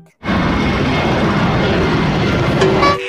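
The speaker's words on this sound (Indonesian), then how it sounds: "Bobo Boy, lihat tuh, ada pesawat." An airplane passes overhead as a loud, steady broadband roar that starts abruptly and holds throughout, with a faint tonal whine near the end.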